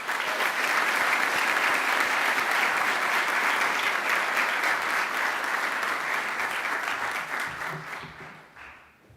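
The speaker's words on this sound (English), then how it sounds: "Let's give another round of applause to Miles." Sustained applause from a large audience at a university graduation ceremony for a Master of Chiropractic graduate, loud and steady throughout before thinning and fading out near the end.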